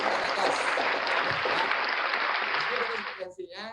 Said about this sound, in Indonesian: Tepuk tangan lu buat